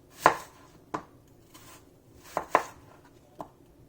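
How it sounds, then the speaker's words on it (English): A knife slices a peeled Golden Delicious apple on a cutting board, giving about six crisp, close chops at an uneven pace against a quiet background. "And you just peel it, and then you can cut it into slices."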